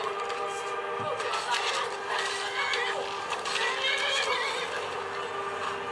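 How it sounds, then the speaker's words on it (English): A horse neighs and whinnies in a game run on a Lenovo ThinkPad X230 laptop, with clip-clopping hooves mixed in under a dense, steady layer of game sound throughout. "Go horse."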